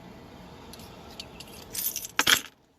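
A handful of house and old mailbox keys jangle and clink close by, starting as faint rustling and building into a couple of bright, brief bursts of metallic chiming near the end, with no talking.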